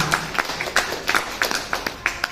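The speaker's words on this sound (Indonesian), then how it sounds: "Tepuk tangan dulu buat Bapak" A small group claps hands at an Indonesian Ceragem wellness session, giving a brief patter of separate, fairly close claps with no talk over them.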